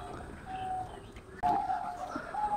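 Pigeons in a loft with nesting pairs and eggs give soft cooing calls that swell louder midway, with faint chirps and low room noise around them.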